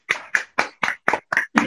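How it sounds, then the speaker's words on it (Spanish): Clapping for the presenters after an online academic session: seven evenly spaced, crisp claps close to the microphone, with silence between each and no voices. "abrimos los micrófonos para darles un fuerte aplauso a los expositores"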